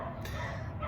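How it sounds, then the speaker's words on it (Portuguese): Dogs bark in a brief yip, heard faintly against a murky background. "tem uns cachorros latindo aí"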